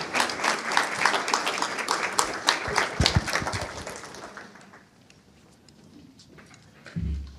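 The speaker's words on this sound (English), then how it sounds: "I think we owe them a round of applause." Audience applause for a panel at a nuclear energy technical conference, a burst of clapping from a seated crowd that swells, then thins and fades out after a few seconds, leaving quiet room tone and a brief low thump.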